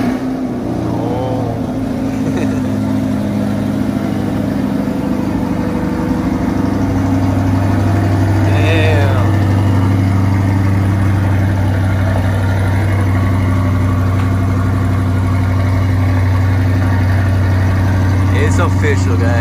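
A new 2020 Chevrolet C8 Corvette sits idling, its engine holding a loud, steady, deep hum close by for the whole stretch, with small shifts in tone and no talk over it.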